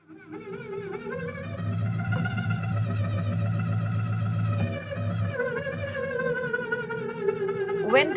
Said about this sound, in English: So this is the balloon drum.